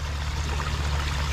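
Water drains steadily off a wet-season trail through a cleared conduit, a continuous trickling flow with low rumbling underneath.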